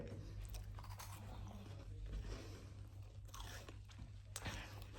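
Someone eats a crunchy biscuit, with soft, irregular bites and crunches close by over a quiet background hum.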